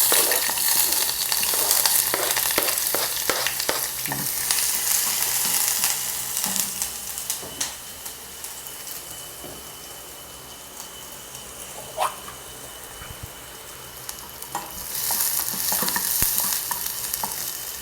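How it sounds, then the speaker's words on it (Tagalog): Onions sizzle and crackle as they hit hot oil in a pan, a steady close frying hiss with scattered pops and occasional utensil stirs, loudest at the start and again near the end, with no talking. "mainit na siguro yung mantika natin mga guys. Lagyan natin yung sibuyas."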